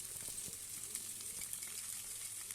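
Spice paste goes into a pan of frying Tangra fish curry with potato and eggplant. The pan gives a steady, soft, even sizzle with no talking.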